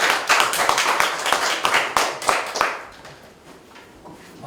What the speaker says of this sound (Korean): 임무성 원장님을 박수로 맞아주시기 바랍니다